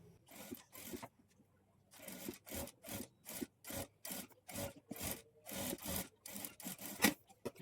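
A sewing machine stitches piping along the round neckline of a blouse, working in short, rhythmic mechanical bursts with brief pauses between runs. It is close and moderately loud, and no one speaks.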